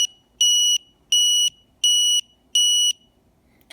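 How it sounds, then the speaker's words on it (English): A Dewalt-to-Ryobi battery adapter's low-voltage alarm sounds five loud, evenly spaced electronic beeps, each about half a second long, clear and alone with no talk. "So it beeped 5 times, automatically sensing 5S"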